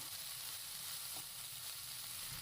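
Ivy gourds for a chutney fry in a pan with a steady, fairly quiet broadband sizzle, and a brief soft scrape of stirring is heard partway through. No one speaks.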